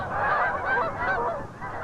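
A flock of geese feeding in marsh and fields honks continuously, overlapping nasal calls close and fairly loud, with no talking.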